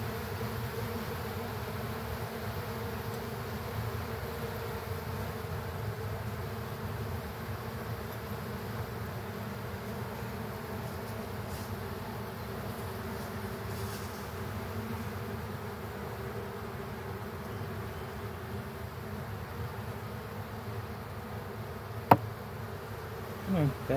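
Honeybees buzz in a dense, continuous drone at an opened hive during an inspection after smoking, steady and close for the whole stretch, with a sharp click and a couple of small knocks near the end.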